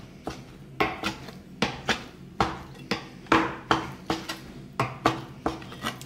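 A knife chops sun-dried tomatoes into coarse pieces on a cutting board, a steady series of about a dozen sharp knocks roughly every half second, close and clear with no talking.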